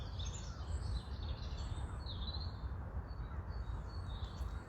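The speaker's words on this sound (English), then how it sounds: "Do you hear the birds?" Birds sing in Dawsholm Park, with repeated high chirps and short song phrases over a steady low outdoor rumble.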